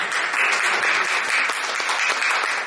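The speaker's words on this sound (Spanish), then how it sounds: "les invito a que les regalen otro aplauso, por favor" Audience applause at the close of a panel discussion, a dense, steady wash of many hands clapping throughout, loud and close with no gaps.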